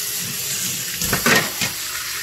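Coffee machine parts rinsed under running water in a kitchen sink, a steady hiss of flow with a few brief splashy clatters of parts near the middle, close and fairly loud, no talking.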